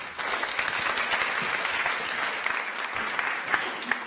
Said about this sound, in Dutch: Mag ik u applaus voor Menno de Bree